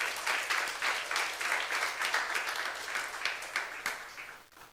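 A church youth congregation applauds with sustained, dense clapping that holds steady for several seconds, then thins and fades out near the end.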